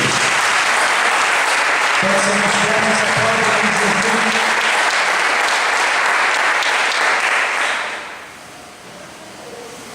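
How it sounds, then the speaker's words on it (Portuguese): A church congregation at a worship service breaks into loud, sustained applause, a dense roar of clapping heard up close, with someone speaking briefly over it before the clapping fades near the end. "Dê um aplauso aí em nome de Jesus."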